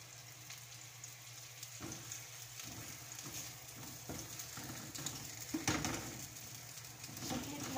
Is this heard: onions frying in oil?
yes